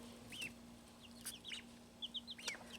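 Farm chickens and ducks kept together in a Michigan hatching area: soft, scattered clucks and chirpy calls, faint and a little distant, over a steady low electrical hum.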